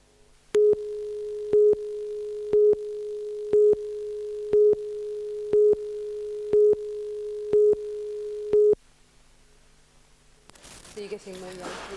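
A telephone busy signal on jammed lines to East Germany: eight evenly spaced, loud beeps pulse in a steady rhythm, then stop, followed by a different, noisier sound near the end.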